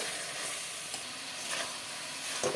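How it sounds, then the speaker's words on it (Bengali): Fried cauliflower and potatoes are sautéed in a spice paste with tomato for a fish curry, giving a dense, steady sizzle close up with faint stirring scrapes and a brief clatter near the end. "দিয়ে দিলাম ভেজে রাখা ফুলকপি আলু ভালো করে কষিয়ে নেব"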